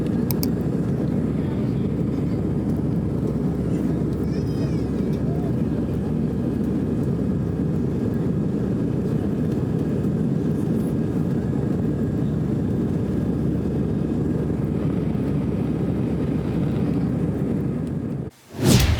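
An airplane in flight gives a steady broad low roar, a constant engine and cabin rumble that stays even for the whole stretch before a brief abrupt change at the end.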